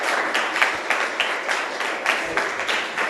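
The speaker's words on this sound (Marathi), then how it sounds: "टाळ्या वाजवा" Schoolchildren at a Marathi Language Day school event give a steady round of clapping that fills the space, continuous and fairly loud for a few seconds with no talk.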